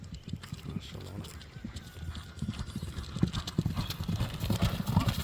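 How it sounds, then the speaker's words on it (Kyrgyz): A horse gallops at speed, its hooves beating a rapid, rhythmic clip-clop on the ground that grows louder and nearer, with a faint voice in the background. "Аттын чуркашы тез экен достор."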